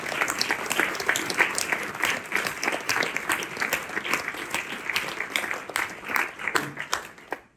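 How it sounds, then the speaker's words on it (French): An audience at a New Year's greetings event applauds the staff, with sustained, dense clapping from many hands at a moderate distance that fades slightly at the end. "je vous demande d'applaudir à nouveau l'ensemble de nos collaborateurs et collaboratrices"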